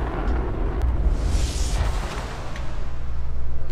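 Weapon test firing in the video game Fallout 4, a loud sustained roaring blast with a rumbling low end and a hissing burst, continuing at full volume without speech.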